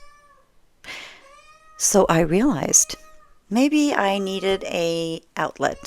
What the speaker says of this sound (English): Yes, that's still my cat.